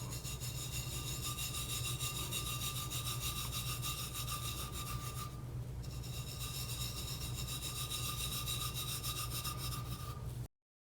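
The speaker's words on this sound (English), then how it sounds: "you're just using some fingers to rub the glitter flat onto the cup" Fingers rubbing glitter flat onto a tumbler cup, a continuous close gritty rubbing with a steady hum underneath, briefly changing texture midway before cutting off.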